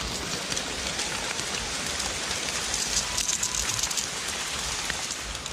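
Steady rain falling and pattering on a surface in a forest, a dense continuous hiss with scattered drops, no voices.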